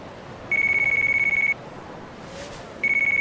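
A telephone rings in a PlayStation game, two bursts of a shrill electronic trill with a pause between, loud and close over quiet background noise.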